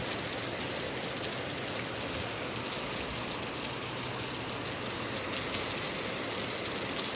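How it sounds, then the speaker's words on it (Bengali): Steady rain falling over foggy hills at Ahaldara viewpoint near Sittong in the early morning, a dense, even hiss of drops on surfaces, continuous and unchanging, no talk. "এখনও বৃষ্টি পড়েই যাচ্ছে"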